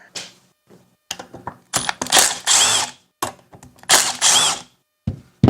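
A power driver backs out T25 screws from the carburetor of a Toro string trimmer, giving short bursts of whirring and ratcheting separated by pauses, close and fairly loud, with no talking.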